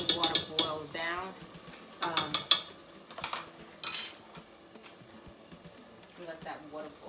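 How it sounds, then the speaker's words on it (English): Paella rice simmers and sizzles in a pan as the water boils down, with several scraping stirs and clinks of a utensil against the pan between quieter stretches of bubbling. "Let that water boil down some."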